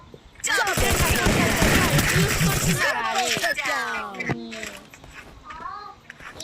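Rapid automatic gunfire and a grenade blast in the Free Fire battle-royale game, loud and dense for a couple of seconds, then easing off as players talk over the fading shots.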